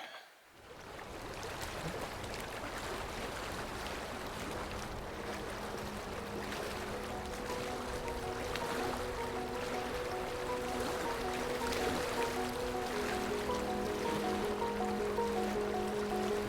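A sailboat under full sail with no engines in the Bahamas sun: a continuous rush of water and wind against the hull, steady and fairly loud throughout, with no voices.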